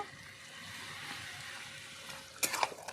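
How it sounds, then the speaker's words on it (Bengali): A soybean and papaya curry is stirred with spices in a pan over a steady soft sizzle, with a few sharp scrapes of a spoon against the pan near the end. "ভালো করে মিশিয়ে নিচ্ছি"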